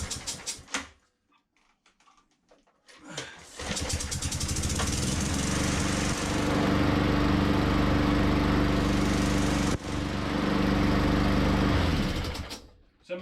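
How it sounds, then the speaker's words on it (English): A machine engine, freshly repaired after a head gasket change and with oil down the head, starts after a few sputters and runs with a fast, buzzy rattle at close range before cutting off. "But the machine is now running, and it runs well compared to"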